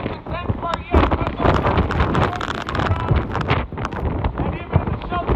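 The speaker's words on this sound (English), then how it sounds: "We've got prolific rainfall coming down, winds gusting triple digits out here." Hurricane Sally's winds gust past 100 mph with heavy rain at Gulf Shores, Alabama, a loud rushing roar that buffets the microphone without a break while someone speaks over it.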